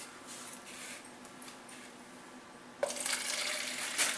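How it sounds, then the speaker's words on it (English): Water runs into a graduated measuring cup while Oobleck is mixed, starting as a faint trickle and then swelling into a louder, close, steady pour with no talking. "So let's put 4 ounces of water"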